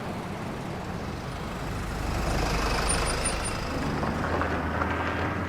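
A VW van pulls in to a caravan club gathering, its engine a steady, broad rumble that swells and grows louder about two seconds in, then holds close by with no voices.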